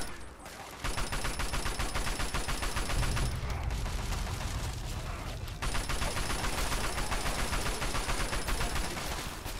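Gunfire from the video game Fallout 3, with dense continuous automatic bursts, loud and close, running almost without pause after a brief quiet start and dipping once midway.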